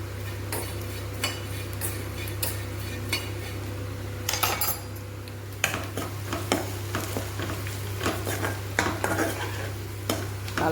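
Prawns fry in a pan while a utensil stirs them, with repeated scraping and clinking strokes over a soft continuous sizzle and a steady low hum.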